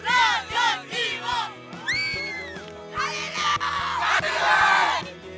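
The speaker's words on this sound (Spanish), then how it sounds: "va a partir el grito de cada equipo" Teams at an outdoor catapult-building challenge shout their team cries, loud overlapping yells and whoops rising in several bursts, with a crowd of voices joining in strongly toward the end.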